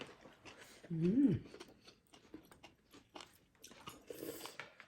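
Someone eats khanom jeen rice noodles with spicy Thai fish kidney curry, with close, soft chewing and biting sounds while people talk.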